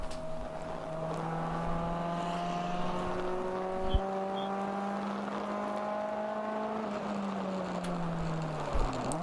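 Race cars at Road America during a ChampCar endurance race, chasing a Mazda Miata: a steady engine drone with harmonic whine holds through the pass, then drops in pitch as the cars go by, with brief knocks.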